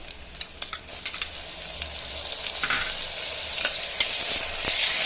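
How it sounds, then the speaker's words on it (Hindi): Onions frying in a pan, a close sizzle punctuated by sharp scraping clicks of a spoon, growing louder and more hissing toward the end, with no speech. "प्याज डाल के मैं थोड़ा सा प्याज को अभी भूनूंगी"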